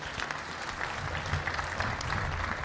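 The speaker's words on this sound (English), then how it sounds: "another round of applause for a great panel" Brief, dense applause from an audience at a conference panel session on data management and defense, steady and moderately loud throughout.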